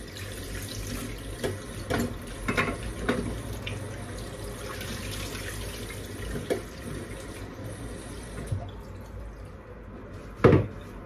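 Tap water runs steadily into a kitchen sink while corn is washed for a Filipino boiled beef soup. Irregular splashes and knocks sound over the stream, with one louder clatter near the end. No one speaks.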